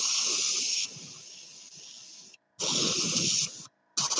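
Close, loud airbrush hiss that pulses and sputters as water moves through the line, spraying steadily and then breaking off twice into brief silences before restarting.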